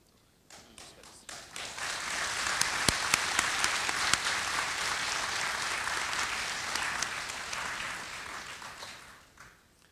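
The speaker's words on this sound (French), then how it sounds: "vu qu'ils ont applaudi" An audience applauds steadily through a live drawing battle between manga artists at the Angoulême comics festival, dense clapping swelling in and fading out near the end, with a few sharper individual claps standing out.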